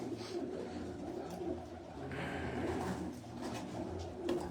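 A pigeon coos quietly in a garden of racing birds, soft low calls recurring over a constant background hum.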